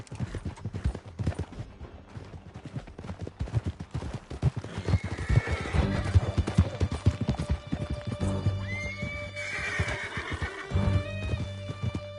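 A horse gallops in Red Dead Redemption 2, with steady rapid hoofbeats close by, a whinny partway through, and faint game music underneath.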